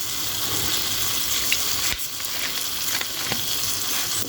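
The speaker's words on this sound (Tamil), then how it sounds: "லைட்டாக கோக்கு ஊற்ற போகிறோம்" Coke poured into chicken frying in a pan gives a steady, close, loud sizzle with a brief dip and faint bubbling and stirring under it, with no voices.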